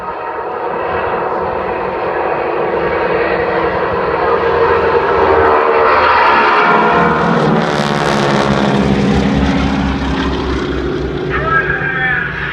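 Wing-walking display aircraft, a 1940s-style barnstormer biplane, flying past with a steady loud propeller engine drone that swells toward the middle and fades slightly, with people talking over it throughout.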